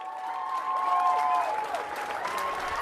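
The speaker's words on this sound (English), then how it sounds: "The 8 o'clock clap has become a unifying moment" Crowds of people clap steadily for NHS workers during the 8 o'clock clap, with a few tonal whistle-like notes rising over the applause.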